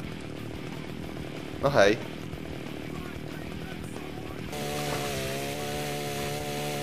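A revving chainsaw from the video game Splatterhouse buzzes quietly under game music, with a brief louder burst and a person speaking briefly over it.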